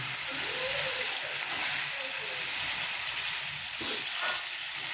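Cauliflower and peas hit hot spiced oil with a loud, steady sizzle and hiss that stays constant throughout, with faint stirring sounds.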